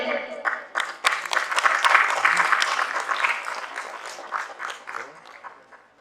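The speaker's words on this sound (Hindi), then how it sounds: "मैं चाहूंगा उनके लिए एक बार जोरदार तालियों के साथ अभिनंदन करें।" Loud applause from a theatre audience after a play, many hands clapping together in a dense wash that swells and then gradually tapers off.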